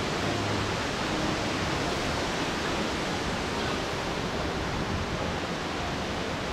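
Nachi Falls roars in a broad, unbroken rush of falling water, steady and moderately distant with no voices.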